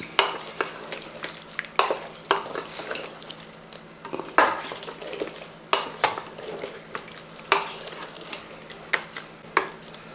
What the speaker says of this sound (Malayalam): ഒന്ന് ഇളക്കി കൊണ്ട് കൊടുക്കും